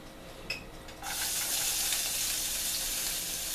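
Garlic sautéing in canola oil, a soft tap followed by a steady, close sizzle that rises suddenly and holds evenly as the garlic hits the hot oil.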